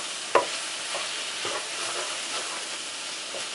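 Peas and carrots sizzle steadily in a frying pan while being stirred, a continuous close hiss with a sharp clatter near the start and a few soft scrapes of the spoon.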